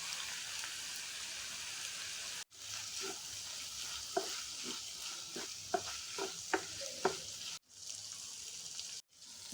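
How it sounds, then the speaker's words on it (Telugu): Turmeric, tomato and dal sizzle in a pan for Mysore dal, a steady frying hiss with several sharp stirring clinks and scrapes, close and moderately quiet, broken by short gaps. "పసుపు వేస్తున్నా, టమాటా వేస్తున్నాను, పప్పు వేస్తున్నాను"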